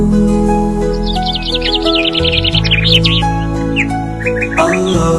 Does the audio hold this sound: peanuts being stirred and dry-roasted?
no